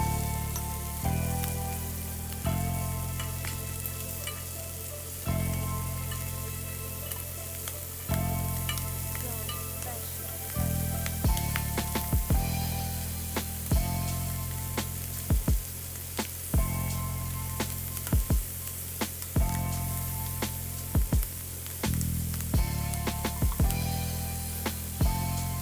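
Shrimp fry in a hot skillet with a steady, close sizzle, broken by a run of sharp taps and clicks as the pieces are turned one by one.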